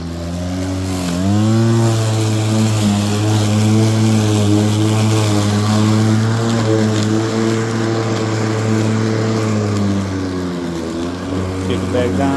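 Battery-powered lawn mower running during a walk-along test, a loud steady electric motor whine that dips briefly and swells back up to speed, sustained close throughout.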